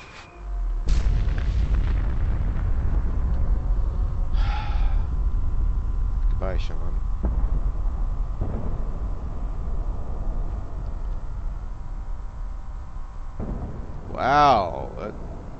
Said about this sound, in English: Subterranean explosion, yeah, that'll do it.